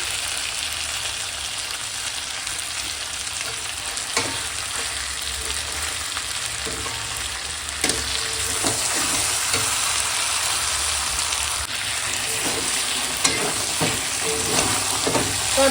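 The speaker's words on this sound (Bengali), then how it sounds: "একটুকু জল দিইনি কিন্তু শুধুই কষাচ্ছি এবার আস্তে আস্তে তলায় লেগে যাচ্ছে" Mutton being stir-fried dry in a pan without any water, a steady loud sizzle throughout with occasional scrapes and knocks of the stirring spoon against the pan base, close up and with no talking.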